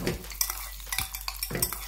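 Raisins tossed into a pan of cashews frying in ghee for carrot payasam, giving a few stirring scrapes and utensil clinks over a soft, steady sizzle, close and fairly quiet, with no talking.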